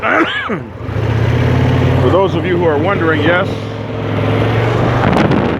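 Someone talks over the steady drone of motorcycle engines idling and revving close by, with the engine noise continuing throughout.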